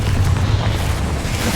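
A Confringo fire spell bursting in the video game Hogwarts Legacy, a loud, dense, rumbling explosion that fills the whole moment close up, without any voices.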